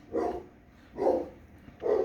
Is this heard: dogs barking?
yes